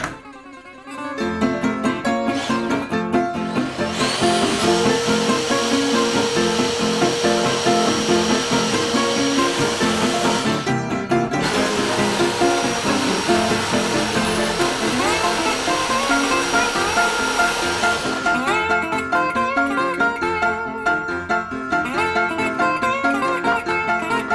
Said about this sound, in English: got the big half-inch drill